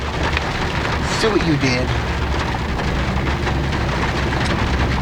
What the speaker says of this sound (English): So far, the rain has not died down going over here.